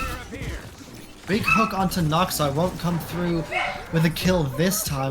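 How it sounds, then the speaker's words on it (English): Dogs bark and whimper in the background of a video game tournament broadcast, with short yips and whines mixed under continuous excited commentary. "I'm very sorry for the dogs. I can't do anything about it."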